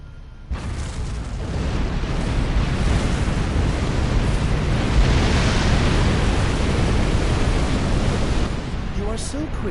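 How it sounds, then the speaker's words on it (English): Detonated charges destroy a factory in Star Trek Online, a sudden onset into a long, loud, sustained rumbling roar that holds steady for several seconds before easing slightly near the end. "The charges are on the surface, are ready to detonate on your command."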